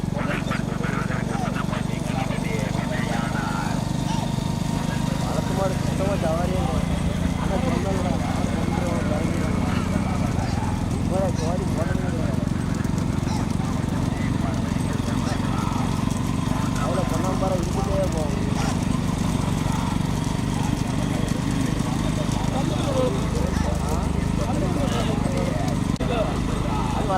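Racing bullocks in a village bullock cart race in Thoothukudi district pound past in a continuous, dense rumble of hooves and cart noise, loud and sustained throughout, with an announcer's voice and crowd talk layered over it.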